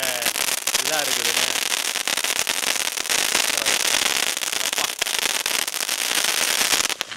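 Loud, dense crackling and popping from Japan fountain crackers going off in Sivakasi, continuous sparkling bursts nearby for the whole stretch, with someone talking over it.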